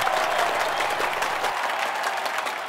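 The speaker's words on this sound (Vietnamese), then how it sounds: "mình cổ vũ vỗ tay liên tục cho ảnh nha." A village audience at a Vietnamese charity game show claps continuously, a thick, even wash of applause at close range that holds steady throughout without any speech.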